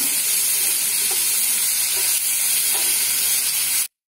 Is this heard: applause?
no